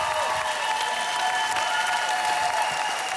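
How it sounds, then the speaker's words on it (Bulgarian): A TV dance-competition audience applauds for dancer Bobi Turboto after a solo, a dense, steady wash of clapping that stays loud throughout with no voices standing out. "Аплодисменти за Боби Турбото!"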